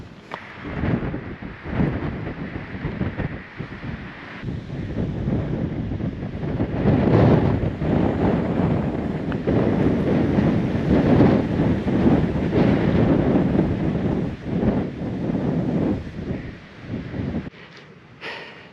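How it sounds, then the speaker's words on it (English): Strong, gusty wind buffets the microphone near the summit of Wasson Peak in Saguaro National Park, Arizona, a continuous low roar with surging gusts lasting throughout. "this wind has not let down at all."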